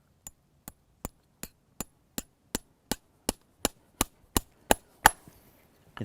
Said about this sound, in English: So listen to the sound of the hammer.